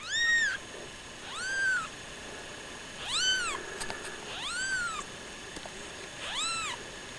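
Newborn kittens, eight hours old, giving five thin high-pitched mews spaced a second or so apart, close by and alone over a quiet background.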